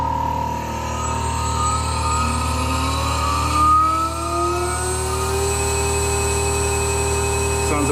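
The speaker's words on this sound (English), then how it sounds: "And start the spindle." Machine spindle on a home workshop machine, built while making a ride-on locomotive, spinning up with steadily rising tones over a constant motor hum, then holding a steady whine, close and alone.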